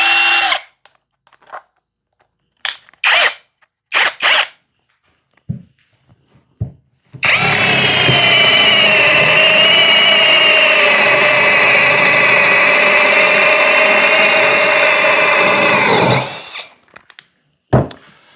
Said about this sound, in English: So if you had to drill by hand a larger hole, it could do it.